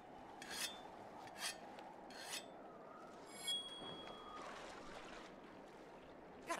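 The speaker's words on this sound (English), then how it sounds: "sharpen this thing up." A whetstone scrapes along a weapon blade in the Monster Hunter Rise video game, several separate rasping strokes at a steady pace over a low wash of background game ambience, with no voices.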